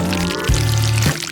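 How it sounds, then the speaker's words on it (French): Sauce poured over noodles on a plate during a food challenge, a near, steady liquid pour that runs in several short streams with brief breaks between them, with no talking. "je vais mettre de la sauce au-dessus des nouilles"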